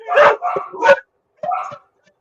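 A dog barks in two short bursts, three quick loud barks followed by a pause and then two more, close and clear in an otherwise quiet room.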